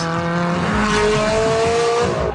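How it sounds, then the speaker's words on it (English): A Ferrari V8 engine howls loudly and continuously at high revs, its pitch climbing steadily with a rasping edge, like a performance car pulling hard through the gears. "howling high revs of a Ferrari V8."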